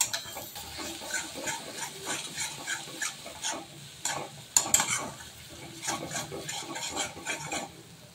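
Masala spices roasting in a pan for masala bhindi, okra cooked with spices, giving a steady close sizzle broken by repeated stirring scrapes and a few sharp clinks of a spoon against the pan.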